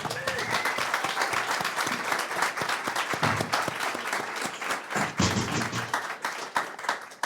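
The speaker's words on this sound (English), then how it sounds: "So, well, a big applause again." Sustained applause from a crowd at a startup awards night, dense clapping throughout with scattered cheering voices and some thumps, steady and fairly loud for several seconds.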